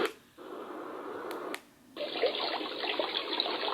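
A baby sound machine's water setting gives a rushing, splashing hiss like running water, cutting in and out twice before settling into a louder steady flow, with no voices.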